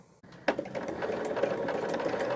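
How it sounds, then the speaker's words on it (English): A sewing machine runs steadily at close range, its fast even stitching hum starting after a brief click and carrying on without a break, during quilt piecing for a Tree of Life mystery quilt. "crank up your sewing machine."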